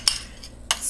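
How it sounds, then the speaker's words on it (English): A utensil stirs tahini, salt and pepper dressing through raw kale, giving a few short, close scraping clinks separated by brief pauses, with no voices. "stir it all up"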